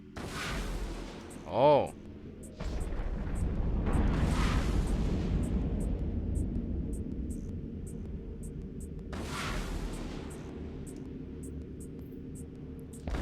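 Ship weapons fire and explosions in the space game EVE Online, heavy rumbling blasts with a sharp burst near the start and another around ten seconds, over a steady low drone; a voice briefly speaks.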